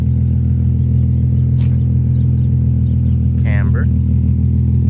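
Nissan 350Z engine on a short drive, a loud, steady low rumble heard from inside the car with no clear revving, while a person speaks over it briefly.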